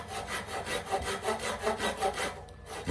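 A hand saw cutting through walnut in steady back-and-forth strokes, about eight rhythmic rasps close by, stopping near the end.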